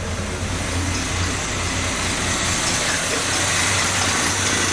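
A budget turbocharged 250 engine idles steadily and loud up close, a continuous low rumble with a faint whine on top and no speech.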